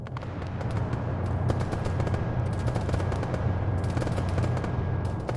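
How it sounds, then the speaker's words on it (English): Machine gun fire in a military video game rattles in rapid bursts at a moderate distance over a constant low rumble, with no pauses in the fire. "So machine gunner's shooting at the target."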